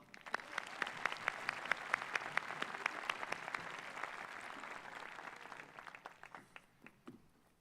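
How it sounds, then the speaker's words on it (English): Audience applause at a high school graduation ceremony, a steady wash of many hands clapping that holds strong and then thins toward the end, with a few sharp individual claps standing out. "So can we give a round of applause to Sahil?"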